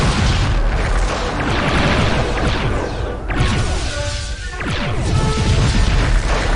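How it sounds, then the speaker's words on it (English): Big chain explosion in the Netrek space game, a dense run of loud crashing booms and bursts with whooshes, rolling over several seconds with brief dips between blasts. "Okay, big chain explosion"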